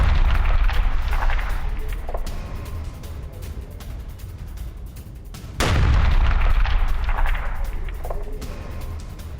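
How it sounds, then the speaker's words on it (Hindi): Iskander missile strikes hitting a Ukrainian weapons depot, with sustained rumbling booms and a sharp, loud blast about midway that renews the roar; no speech. "रूस ने स्कंदर मिसाइल से यह हमला किया"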